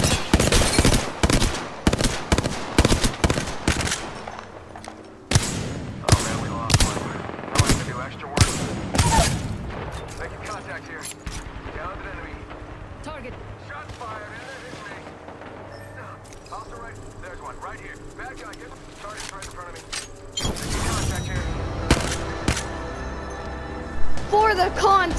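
Loud, dense bursts of automatic gunfire and explosions ring out in Apex Legends, rapid volleys stacking up with quieter stretches between them, while a player's voice talks over parts of the fight.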